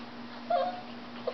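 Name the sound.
dog whimpering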